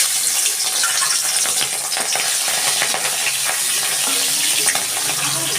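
Shrimp sizzling hard in hot mustard oil in a wok after peanuts were fried, a dense steady crackle and hiss with faint stirring scrapes, close and loud with no talking.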